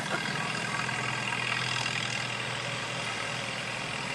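Tractor engines idle at a small-town tractor parade, a steady low diesel rumble with a continuous mechanical drone that stays even and fairly close throughout, with no voices.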